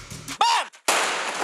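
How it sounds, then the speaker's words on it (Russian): A pyrotechnic explosion charge with a sand-filled bag detonates on a film set, giving a loud burst that is followed by a short silence and then a long, sustained roar of debris and rumble. "Так выглядит взрыв на площадке."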